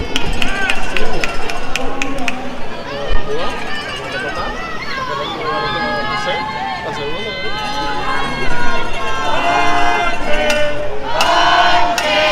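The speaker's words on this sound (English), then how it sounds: "The Venezuelan crowd is getting hyped up right now. You can hear them." Venezuelan fans at an 18U baseball championship game against the USA cheer, chant and clap loudly in the stands, a noisy crowd roar with shouting voices that swells near the end while a commentator talks over it.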